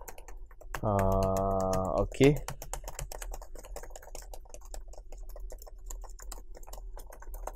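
Typing on a computer keyboard, a fast run of light, close key clicks continuing steadily for several seconds after a brief hum and a spoken word at the start.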